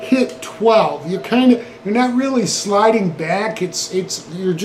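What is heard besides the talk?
No distinct noise like a dog, phone or traffic.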